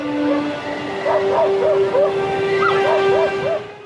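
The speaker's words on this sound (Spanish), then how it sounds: "oyeron unos distantes ladridos de perros" Dogs bark and yelp in the distance on a remote Arctic island, a series of short rising yips and howl-like calls over a sustained low tone and wind-like background.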